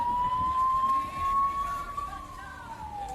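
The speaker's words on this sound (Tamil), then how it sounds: "ஆம்புலன்ஸ் போகுது" Ambulance siren heard from a house as the vehicle passes, a single steady wailing tone slowly rising and then falling away, moderately distant and unaccompanied by talk.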